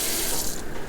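Water gushes steadily from an IKEA Sunnersta kitchen faucet set up outdoors, a close, loud, hissing splash that eases slightly toward the end.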